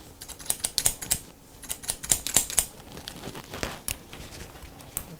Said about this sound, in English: Cut with the scissor comb techniques on middle zone.